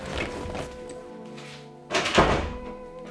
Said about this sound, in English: I'm just going to shut my back door because it's fucking annoying me